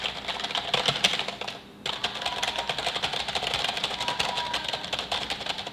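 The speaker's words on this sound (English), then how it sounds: "Y'all see how fast I'm typing?" Rapid, continuous typing on a computer keyboard, keys clattering close and fast with a brief pause partway, no talking.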